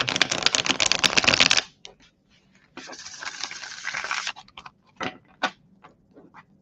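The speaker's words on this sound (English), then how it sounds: "We're going to shuffle the old-fashioned way" Tarot cards shuffled by hand: a dense riffling burst, a pause, then a second longer burst of card flutter, followed by a few scattered light taps and snaps, close and clear with no talk.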